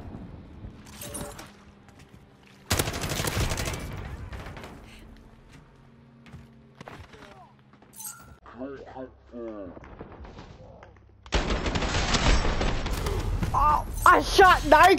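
Rapid gunshots and bursts of gunfire from a shooter video game, loud sustained volleys in two stretches with quieter sporadic shots and game effects between, while people talk.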